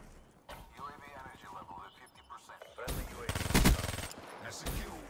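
Vesper submachine gun fired from the hip in Black Ops 3, a dense rapid burst of shots in the second half, with someone talking over the earlier part and other game sounds around it.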